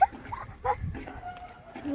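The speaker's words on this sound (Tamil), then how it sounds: "ஒரு நாய் எங்களை துரத்துது" A dog that is chasing people outdoors gives faint whimpering yelps and soft barks, mixed with background voices and rustling.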